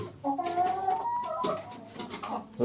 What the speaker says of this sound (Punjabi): ਆ ਮੁਰਗੀਆਂ ਆਈਆਂ